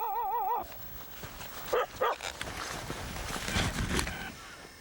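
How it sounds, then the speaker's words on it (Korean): A mother dog barks in deep snow at a frontline army post high in the mountains, giving a couple of short sharp barks amid faint outdoor noise, with a brief electronic warble at the start. "컹컹 짖으며 병사들을 부른다"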